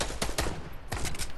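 Shotgun fire in a video game: a rapid series of several loud, close blasts in quick succession with no talk.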